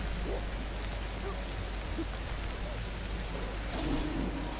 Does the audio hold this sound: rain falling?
yes